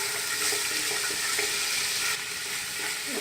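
Garlic and ginger fry in oil for a biryani, giving a steady close sizzle and crackle with light stirring sounds and no talk.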